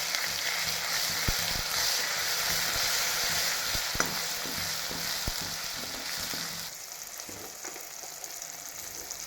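Peanuts, garlic, ginger, coconut and tomato are added to hot oil in a home kitchen, raising a steady loud sizzle and crackle. Occasional utensil clicks cut through, and the frying eases slightly toward the end.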